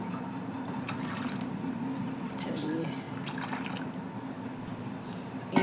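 Water splashes and trickles steadily into a cooking pot holding chickpeas and potatoes for boiling, a close, running pour with a faint voice in the background.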